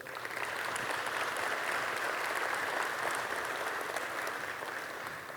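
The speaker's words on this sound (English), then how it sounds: "Let's give a round of applause to Big Dave." A convention crowd at a pizza industry expo keynote gives a sustained round of applause, a broad, even rush of clapping that rises quickly and holds steady at moderate level, heard from a distance in a large hall.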